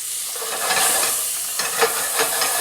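Onions and garlic fry in a hot pan with a constant close sizzle and hiss, broken by a few brief scrapes as they are stirred; no talk.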